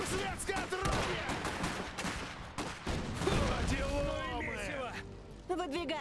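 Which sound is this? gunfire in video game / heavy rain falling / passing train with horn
gunfire in video game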